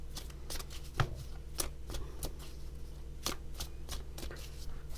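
Oracle cards are shuffled by hand in repeated papery riffles and snaps, close by over a low steady hum, with no talking.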